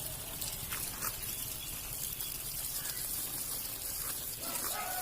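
Water poured onto a yellow ground orchid plant in a summer garden, a soft continuous trickle and splash, fairly faint, with no talking.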